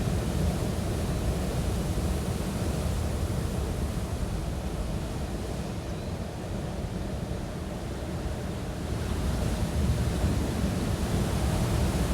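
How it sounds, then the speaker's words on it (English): Ocean waves surge in a steady broadband wash that swells and eases slightly over time, a continuous outdoor roar with wind noise and no voices. "Even right now, just looking at the waves."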